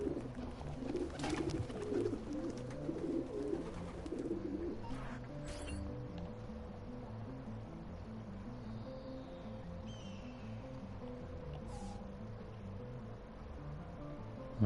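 Pigeons coo softly at a pigeon coop in Assassin's Creed II, low repeated cooing under a steady game ambience with a few faint clicks and rustles, no voices.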